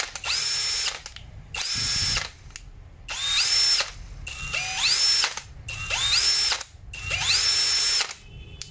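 A cordless drill driver with a 13 mm chuck, 22 clutch settings and drill and hammer modes runs in six short bursts, each spinning up to a high whine before stopping, close and loud with brief pauses between.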